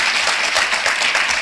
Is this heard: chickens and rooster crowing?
no